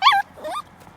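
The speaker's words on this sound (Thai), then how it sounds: "หยุดน้องน้องเห่าทำไม" A small dog lets out two short, high-pitched yips close by, the first sharper, then a quieter whimper-like tail, with no talking.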